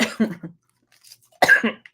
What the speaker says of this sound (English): I'm going to have to cough for just a second.